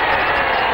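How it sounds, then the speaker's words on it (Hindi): Crowd applause at an election campaign rally, a dense, steady wash of clapping held at an even level through a short burst, with no voices over it. "जोरदार ताली बजाकर"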